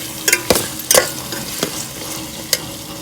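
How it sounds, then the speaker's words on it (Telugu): Masala is stirred and fried in oil in a pan for khichdi, with a continuous sizzle and several sharp scraping strokes and taps of a spoon, spaced irregularly, close and fairly loud. "తీసుకొని కలుపుకొని వేగనిద్దామండి ఆయిల్లో."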